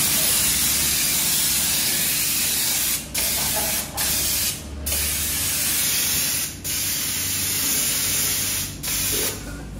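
Pressure-washer water spraying over a hot car engine, a loud continuous hissing spray that cuts off briefly several times in short gaps before resuming, with no talking.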